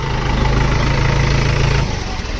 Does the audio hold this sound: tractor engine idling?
yes